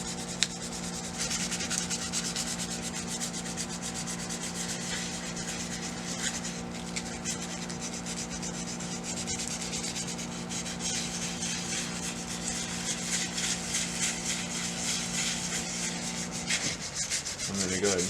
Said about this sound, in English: take some 220 grit sandpaper. I've got a true oil finish on this, so I'm just going to real lightly sand that off.